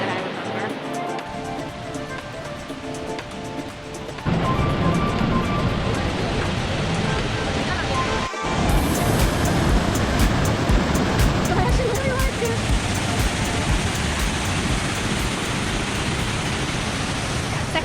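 Iguazu Falls roars as a loud, steady wash of falling water that grows fuller partway through, with voices talking over it.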